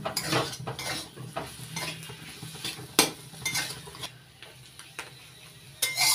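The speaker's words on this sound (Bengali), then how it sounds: "এবার দিয়ে দিয়েছি ধনেপাতা। এবার মিশিয়ে নিচ্ছি।" A spoon scrapes and clinks against a pan while spiced potato filling with coriander leaves is stirred for aloo paratha. Irregular sharp knocks and scrapes ring out close and loud over a faint sizzle.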